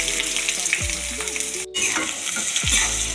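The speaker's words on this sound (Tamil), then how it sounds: "எண்ணெய் நல்லா ஹீட் ஆனோடனே வெங்காயம், பச்சை மிளகு ரெண்டையுமே போட்டுடலாம்" Small shallots and green chillies sizzle and crackle steadily in hot oil, with a brief break and a couple of scraping stirs, close and loud.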